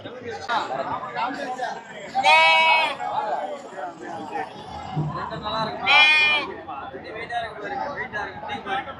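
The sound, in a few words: sheep or lambs bleating at a livestock market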